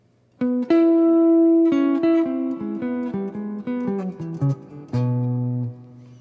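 A clean electric guitar plays a short descending bluesy phrase of single notes with chromatic slides from a solo, ending on a sustained low note, clear and close.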